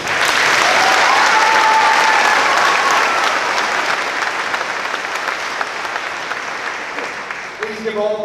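Sustained audience applause at a class of 2026 graduation ceremony for student award recipients, a dense crowd clapping loudly from the start and tapering slightly toward the end, with a few brief cheers and voices mixed in.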